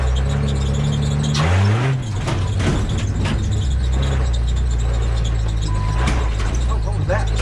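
A mail Jeep engine labors while climbing a hill in four-wheel drive, a loud, steady low drone with a brief squeal and shift in pitch near the start, continuing throughout with faint voices beneath.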